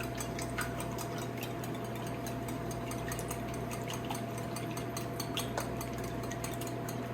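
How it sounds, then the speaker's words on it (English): Eggs are whisked in a bowl for frittatas, giving a steady wet stirring sound with rapid light clicks of the whisk against the bowl, close and continuous with no talk. "So I'm going to whisk my eggs."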